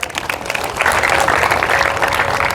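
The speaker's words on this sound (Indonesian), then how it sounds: "Berikan tepuk tangan buat Yesus." Applause from a church congregation during a worship service, a dense steady wash of many hands clapping that swells after the first second and continues without pause.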